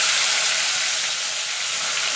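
Tangra fish sizzle in hot mustard oil, giving a steady, close, bright hiss of frying with no pause throughout.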